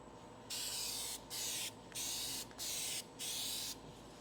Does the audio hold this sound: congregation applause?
no